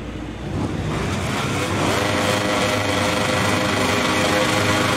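MotoGP 21 racing motorcycles at the Italian Grand Prix roar off the start line. The dense engine roar swells within the first half second and stays loud and steady throughout.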